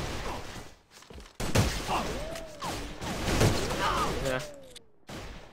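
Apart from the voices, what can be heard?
pistol gunshots in the video game AVA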